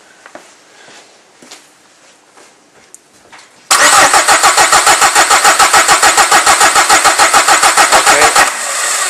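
A car engine cranks during a common rail diesel pressure test, a fast loud rhythmic churn of starter pulses that starts abruptly after quiet shop noise and runs steadily for about five seconds before dropping off.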